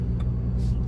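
BMW 135i driving in automatic drive, a steady low engine and road rumble inside the cabin with a smooth gear shift, a brief faint click near the start and a soft hiss midway.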